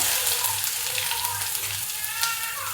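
Cumin seeds and onion hit hot oil for pav bhaji, giving a brief, bright, continuous sizzle with light crackles at moderate volume.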